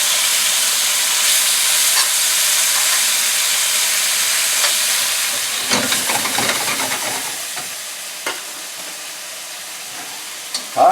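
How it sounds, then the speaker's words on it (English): Beef slices frying in a wok over high heat, giving a strong hissing sizzle that eases midway, broken by a few sharp spatula scrapes and knocks. "Won't take long at all for this beef to cook"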